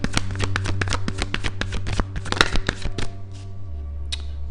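Tarot cards riffled and shuffled by hand in rapid crisp bursts, close and fairly loud over a steady low hum, with no talk.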